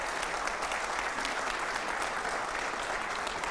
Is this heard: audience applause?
yes